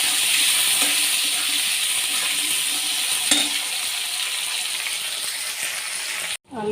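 Potatoes fry in a pan with cumin and ginger paste and green chillies, giving off a loud, steady, close sizzle and hiss with light stirring scrapes, until it cuts off abruptly near the end.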